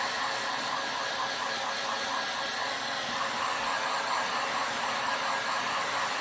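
A hair dryer blows a steady, loud, continuous whoosh while drying the back of a painted craft door hanger, with no break across the whole stretch.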